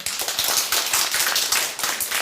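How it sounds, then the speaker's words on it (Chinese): Audience applause fills a talk-show studio, a dense, steady clapping of many hands at close range, holding an even level throughout with no voices over it. "给他鼓掌一下"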